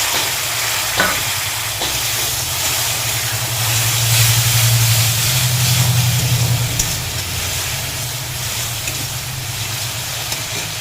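Grated tomato tipped into hot oil spiced with chilli powder, giving a steady loud sizzle and hiss that swells briefly after a sharp splash, alone without talk.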